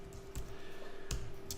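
Computer keyboard keys pressed during Adobe Photoshop work, a few sharp clicks spaced apart over a steady electrical hum, quiet and close.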